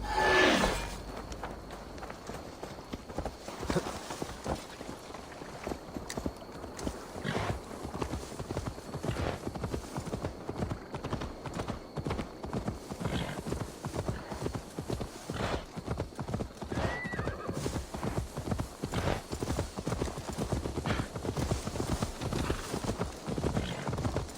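Horse hooves clip-clopping in Assassin's Creed Valhalla, a steady walking rhythm of close, regular hoof strikes continuing throughout, with a brief whinny near the start.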